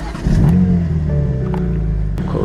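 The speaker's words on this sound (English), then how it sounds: "Go ahead and start this thing up, clutch in." BMW M4 G82 with a 6-speed manual cranking and firing up from inside the car: a short starter whir, then the engine catches with a loud flare and settles into a steady, throaty idle.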